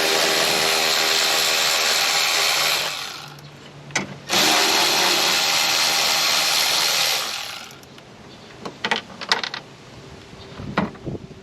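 A power driver backs out 10 mm bolts from the air intake cover of a BMW 328i, whirring loudly in two long sustained bursts, then giving way to quieter clicks and handling noises.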